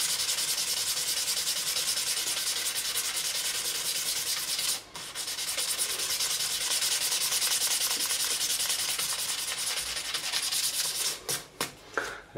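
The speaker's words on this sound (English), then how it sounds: "we're going to polish right over the fret" Steady abrasive rubbing as frets on an ESP Ltd M-300FM electric guitar are polished during a fret level, a continuous close scratchy hiss with a brief pause midway and choppier strokes near the end, no talking.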